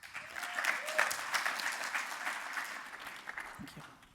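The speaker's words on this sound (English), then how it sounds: "Big round of applause for her, please." An audience at a Stanford business school event on kindness-centered social impact claps in warm, sustained applause. The clapping rises quickly, then slowly fades, with faint voices mixed in near the end.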